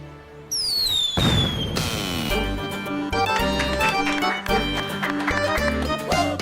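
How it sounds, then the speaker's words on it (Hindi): Firecrackers go off in a Diwali-season TV drama scene. A rising whistle like a rocket leads into bursts and crackles layered over background music, loud and busy throughout. "ये बच्चे अभी से क्या पटाखे दगा रहे हैं?"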